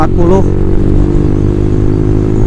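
A motorcycle fitted with a racing exhaust runs with a deep, steady low rumble close by, a brief voice heard at the very start.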